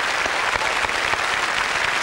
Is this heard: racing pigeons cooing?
no